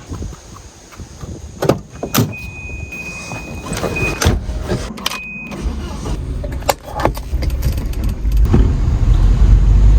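A Volvo Amazon sets off on a drive, with a door shutting, a brief electric whine and clicks before the engine and road noise build steadily toward the end, close and loud inside the car.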